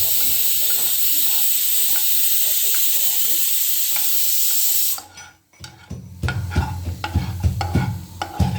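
Ingredients fry in ghee as a garnish for homemade chicken haleem. A hiss and a faint scraping stir lead into a sharper, louder crackling sizzle with clatter from the pan, up close and without talk.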